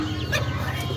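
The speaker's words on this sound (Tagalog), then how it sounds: "Puntahan natin yung inahin, oh. May inahin tayo dito." Hens cluck steadily in a farmyard at feeding time, close and fairly loud over a constant rough background noise, with no talking.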